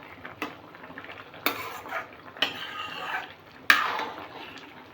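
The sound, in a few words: cooking potato and okra in a pan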